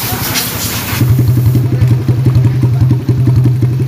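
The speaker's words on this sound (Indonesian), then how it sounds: "Knalpot kita lepas supaya stensionernya kedengeran." A Shogun motorcycle engine with its exhaust removed idles loudly and close by, with a rapid, even mechanical ticking and clatter from the cam chain tensioner area. A brief rougher burst comes at the start.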